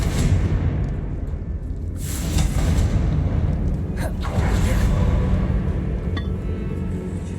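The Confringo explosive spell goes off in Hogwarts Legacy, set in a tomb, with loud booming blasts, glassy clinks and a rumbling low backdrop that runs steadily throughout.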